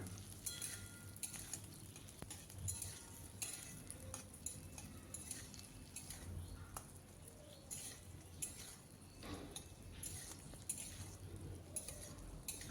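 Okra frying in mustard oil in a hot wok gives a very faint, continuous sizzle, broken by scattered soft clinks and scrapes of a utensil stirring against the metal.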